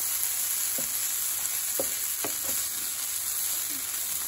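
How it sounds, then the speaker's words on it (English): Hash brown potatoes frying in a skillet give a steady, soft sizzle throughout, with a few scraping stirs of a utensil against the pan. "I've got about 15 minutes in here cooking these in this skillet."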